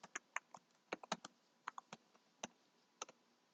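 Light, irregular keystrokes tap out a password on a computer keyboard, a quiet string of scattered clicks with short pauses between bursts and no talking.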